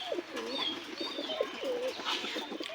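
Pigeons nesting on eggs in a loft coo steadily and close, with overlapping throaty warbles and a few higher chirps.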